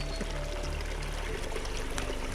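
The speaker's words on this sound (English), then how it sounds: "this stream that we're coming to" A forest stream flowing near an ancient sassafras grove on Mount Torbreck makes a continuous, steady rush of water, fairly soft and unbroken throughout.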